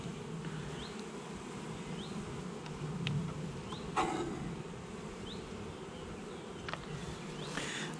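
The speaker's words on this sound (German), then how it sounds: "Und da müssen wir die Bienen kurz wegschütteln" Honeybees buzz around an opened hive during a swarm inspection, a dense steady hum close by with a few brief louder passes and faint higher whines of individual bees flying past.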